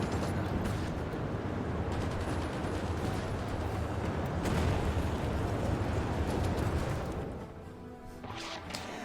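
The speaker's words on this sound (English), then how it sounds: "I heard an unusually loud explosion" Loud, sustained war rumble and explosion blasts from the Hearts of Iron IV strategy game, a dense continuous roar for about seven seconds before easing to a quieter, thinner tail.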